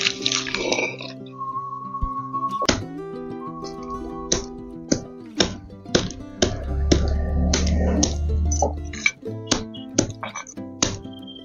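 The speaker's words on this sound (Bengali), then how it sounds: "এটা একটু নড়া দিয়ে ছিঁচিয়ে নেবো।" Jackfruit seeds crushed with a grinding stone: close, sharp knocks and cracking taps at irregular intervals, some with a wet squishing grind between them, over a low background hum.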